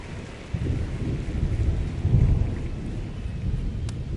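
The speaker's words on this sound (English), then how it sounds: "It feels like we might be headed towards a rain delay if the weather doesn't ease up, Chris" Thunder rumbles over steady rain in an MLB The Show baseball video game, a low rolling roar swelling midway through a continuous wash of rainfall with no talk.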